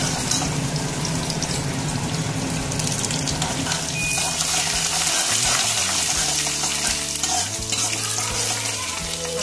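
Green chillies fry in hot oil for a Rajasthani mixed sabzi of cluster beans with curd, a steady close sizzle and crackle with occasional stirring scrapes, with no talk over it.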